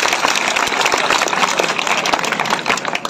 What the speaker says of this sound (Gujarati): તાળી આવે એના માટે, તાળી મારી દે